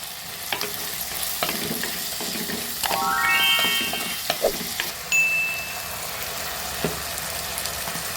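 Brinjal and tomatoes sauté in hot oil in a pan for a dry fish curry, a steady close sizzle with stirring scrapes and a brief high whistling tone partway through.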